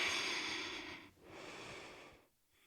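Heavy, audible breaths while holding a yoga full-split stretch: a long breathy exhale, a short pause, then another drawn-out breath fading away, close to the mic with no talk.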